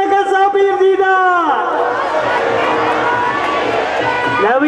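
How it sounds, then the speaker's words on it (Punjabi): At a religious fair at a pir's shrine, a single voice calls out, then a large crowd answers with a loud, sustained shouted jaikara cheer that fills the space for several seconds. "ਪਹਿਲਾਂ ਚਕਾਰਾ ਹੋਣਾ ਚਾਹੀਦਾ ਜ਼ੋਰਦਾਰ ਜੈਕਾਰਾ ਨਗਸਾ ਪੀਰ ਜੀ ਦਾ"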